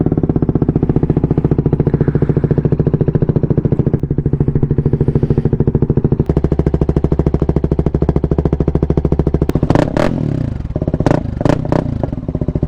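Steady, loud drone of a CFMOTO 300NK motorcycle exhaust at idle, picked up from inside the rider's helmet, with a brief run of revving and clattering bursts near the end.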